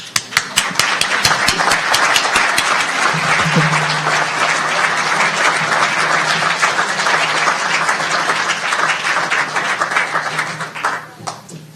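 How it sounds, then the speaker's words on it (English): An audience at a naturalization ceremony breaks into sustained applause, with a few sharp individual claps at first swelling into a dense, steady wash that fades near the end. "I haven't even said anything and you're clapping"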